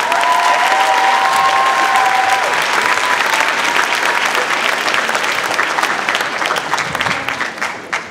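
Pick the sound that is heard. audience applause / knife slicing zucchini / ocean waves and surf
audience applause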